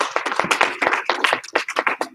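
A group of children claps quickly and unevenly in a classroom, the sharp close claps scattered and overlapping in a brief burst, with no one talking.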